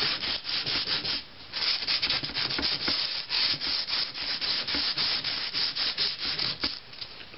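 Sandpaper rubbed by hand along a rusted steel sword blade, a steady series of quick rasping back-and-forth strokes, close and moderately loud, with no talking.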